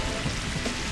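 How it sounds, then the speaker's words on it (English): Rain Dance rain effect in Pokemon XD Gale of Darkness, a short burst of steady hissing rainfall. "we're going to use Rain Dance to negate his Sunny Day"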